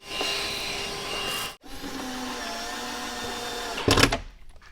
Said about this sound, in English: Let's vacuum that out a little bit.